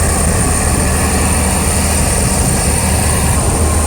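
A fishing boat's engine drones steadily at sea during a deep-sea mackerel trip, a loud, unbroken low rumble with a constant hum and no voices.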